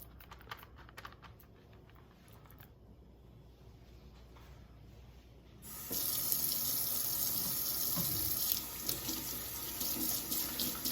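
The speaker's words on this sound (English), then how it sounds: "I'm gonna wash my hands" A kitchen sink tap runs while hands are washed, starting as a softer trickle and then opening into a steady, louder rush of water with faint splashing.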